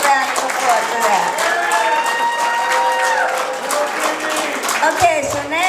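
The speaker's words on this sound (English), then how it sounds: "she deserves a round of applause for that" Audience applause mixed with crowd cheering sounds out at fairly close range at a wedding celebration, with voices and whoops rising through the clapping.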